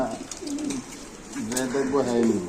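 Racer pigeons at a pigeon farm coo in soft, wavering rolls, one after another at close range, while people talk nearby.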